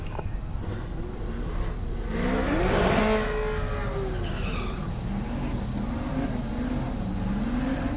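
A Cadillac CTS-V runs down a drag strip at Heartland Park Topeka, its engine surging loud with a rising pitch mid-run before settling into a steady distant drone under crowd and track ambience.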